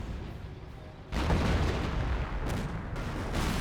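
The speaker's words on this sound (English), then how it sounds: "Mortar scores another kill" Mortar shells landing in a Company of Heroes 1 match against Panzer Grenadiers and British forces: a sudden heavy boom at about one second followed by sustained rumbling detonations and battlefield noise.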